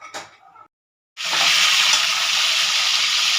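Meat hits hot oil in a pan and a loud, steady sizzle of frying follows right after a short clatter and a brief pause.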